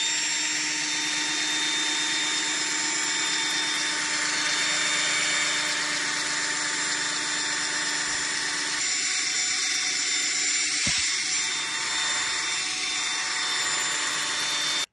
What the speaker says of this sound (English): I'm going to buff this polish off now and see how many more times I need to polish it